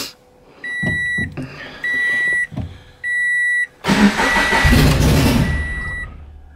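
A Scion FR-S fitted with equal length headers sits through several electronic chimes and cranking attempts, then its engine fires into a loud, raspy run close by that lasts to the end.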